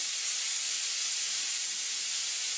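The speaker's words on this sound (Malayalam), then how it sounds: "ഇനി ഇതിലേക്ക് 1 ടീസ്പൂൺ നെയ്യ് കൂടി ചേർത്ത് അടപ്പിട്ട് ഒരു 4 വിസിലോളം പരിപ്പൊന്ന് വേവിച്ചെടുക്കുന്നുണ്ട്" A pressure cooker with ghee-coated roasted dal, cooked for Kerala-style parippu payasam, gives a steady loud hiss of escaping steam that holds unbroken throughout with no other sounds.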